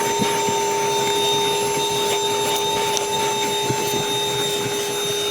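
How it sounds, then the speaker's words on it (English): A Ryobi 18V project vacuum runs steadily with a strong, constant motor whine while cleaning a car's carpet, with scraping and bumping of the nozzle against the fabric, close and continuous. "right now I'm pushing the vacuum back with my leg because it's trying to come with me"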